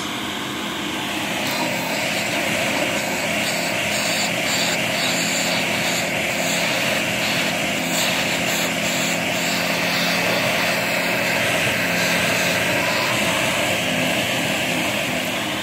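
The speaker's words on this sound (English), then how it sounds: "you can kind of hear the airflow bleeding around my fingers" A steady roaring rush of airflow from a running Viking/Electrolux 507 Electronic upright vacuum cleaner, bleeding around fingers, loud and continuous with a high whine layered over it.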